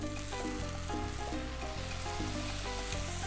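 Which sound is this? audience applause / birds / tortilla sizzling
tortilla sizzling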